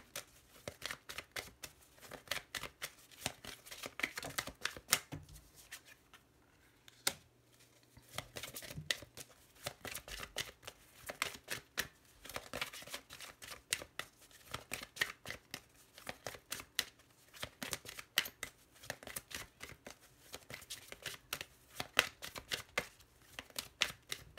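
Oracle cards being shuffled, handled and laid out for a tarot-style reading, a steady stream of close, soft card flicks and slaps continuing for a long stretch.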